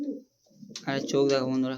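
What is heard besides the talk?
Kaldom male pigeon cooing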